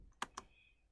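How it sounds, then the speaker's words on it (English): Two quick, soft clicks of computer keys being pressed, close and quiet, spaced a fraction of a second apart against near silence. "So I'm typing ping"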